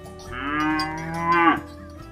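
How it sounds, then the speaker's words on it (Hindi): A single cow gives one long, drawn-out moo, loud and close, swelling at the end before cutting off abruptly, alone without talk. "रात को उसके पास जाओ तो वो किसी को देखती हुई डराने वाले स्वर में रंभाती।"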